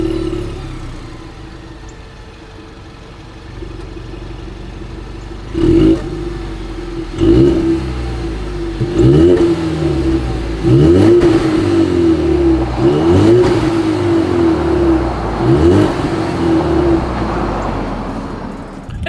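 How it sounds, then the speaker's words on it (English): A 2020 Ford Mustang EcoBoost idling and then revving repeatedly through its exhaust, loud and close, with a series of sharp rising blips over a steady idle. "let's just go ahead and start it up"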